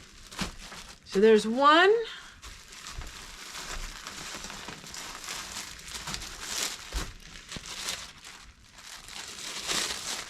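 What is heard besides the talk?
cutting and crinkling plastic bags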